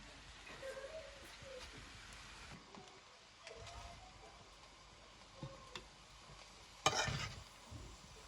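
Egg fried rice being stirred in a pan, a steady low scraping and faint sizzle running throughout, with a few brief louder clatters near the end.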